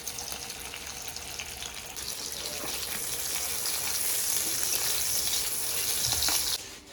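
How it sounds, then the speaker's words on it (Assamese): Steady, loud sizzling of paneer frying in hot oil, a dense crackling hiss that builds slightly and runs throughout, then cuts off near the end. "পনীৰখিনি অলপ ফ্ৰাই কৰি লওঁ"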